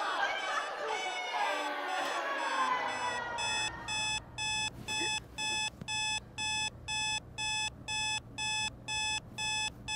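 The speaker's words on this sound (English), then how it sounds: "these alarm clocks are annoying as hell" An alarm clock beeping in rapid regular bursts, loud and close, starting after a few seconds of muffled background chatter.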